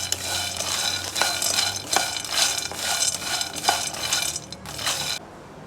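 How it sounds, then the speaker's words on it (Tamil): Peanuts are dry-roasted in a pan, with a spoon scraping and stirring them in repeated rhythmic sweeps over a light sizzling rattle, heard close and with no talk. "2 கப்பு நிலக்கடலை எடுத்துருக்கேன், அதை நம்ம வறுத்து எடுத்துக்கலாம்."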